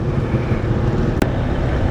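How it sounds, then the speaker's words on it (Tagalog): Road traffic in a town centre in Nueva Ecija, a loud steady rumble of many vehicles passing nearby with wind buffeting the microphone and one brief sharp click. "maraming mga sasakyan dito"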